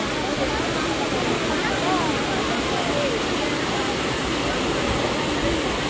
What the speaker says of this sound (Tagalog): Kasi malakas ang impact ng tubig